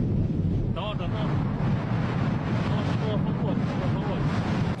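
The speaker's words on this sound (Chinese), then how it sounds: "不期而遇的大风给验证者们带来了麻烦" Strong gusty wind sweeping across an open outdoor field, buffeting the microphone with a loud, constant low roar for several seconds, with faint voices in the background.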